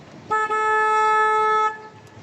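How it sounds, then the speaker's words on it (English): A single loud, steady tour boat horn blast on the San Antonio River Walk lasting just over a second, with a brief dip near the start, then quiet background noise. "I'm just going to honk my horn to make sure no one's coming through here"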